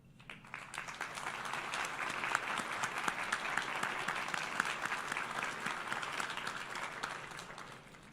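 Family members at a university commencement ceremony applaud in a large hall, clapping swelling in over the first second into a steady, dense ovation that tapers near the end.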